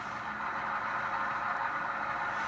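A Tsunami2 sound decoder in an InterMountain Tier 4 model locomotive plays a steady diesel engine drone, a continuous mid-pitched rumble held at even loudness.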